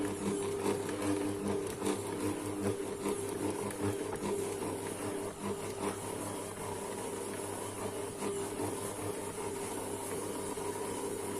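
A bread machine or stand mixer kneads bread dough made with T45 flour, giving a steady, continuous motor hum with a rhythmic mechanical whir that stays loud and unchanging throughout, with no voices.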